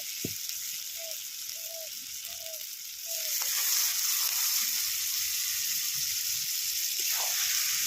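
Small pieces of Lote fish (Bombay duck) drop into spice paste frying in oil for jhuri; after a few soft clinks the hiss jumps to a loud, steady sizzle that keeps going.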